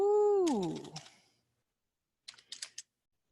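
Computer keyboard typing in two short bursts of rapid key clicks separated by a pause, following a brief voiced tone at the start; fairly close and otherwise quiet.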